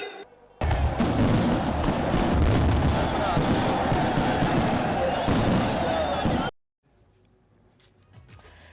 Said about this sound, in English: above them was a fireworks display